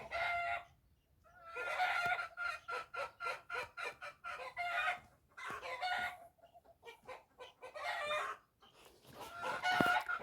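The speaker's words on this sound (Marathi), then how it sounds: "ह्या कोंबड्या का ओरडतात" Hens at a poultry shed in Maharashtra, settled in the shade mid-morning, cluck and call in repeated close bursts with short gaps between them, and no talking.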